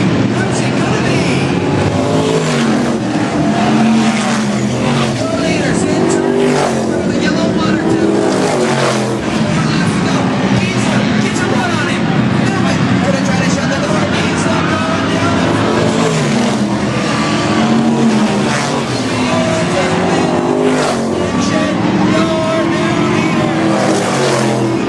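Race car engines roar continuously at Meridian Speedway, a dense, loud wash of motors with mufflers under a 95-decibel rule, and a voice talks throughout over the racing noise.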